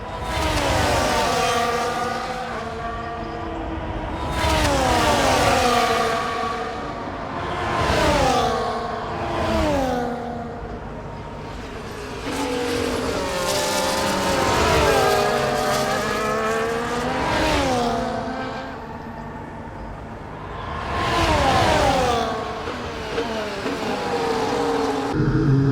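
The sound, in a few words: F1 race car engine, short shifting, from F1 24 video game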